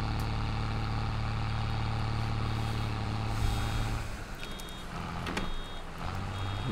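A vehicle reversing in Farming Simulator 22, steady repeating high beeps over a loud idling engine drone with a hiss like an air brake, no talk.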